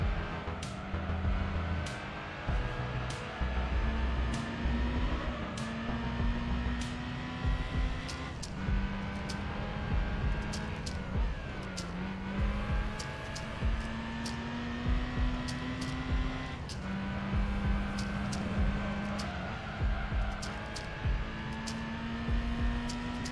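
Mazda Miata racing in Gran Turismo, engine note rising and falling steadily through gear changes over continuous tyre and road noise, with no talking.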